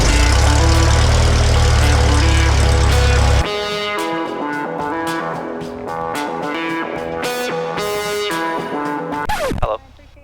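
A small airplane's engine fires up: a loud rough burst first, then a steady propeller drone with tonal harmonics that shifts pitch before cutting off near the end.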